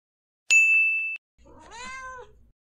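A cartoonish cat meow sound effect after a bright ding, the meow a single rising-and-falling cry heard alone in quiet.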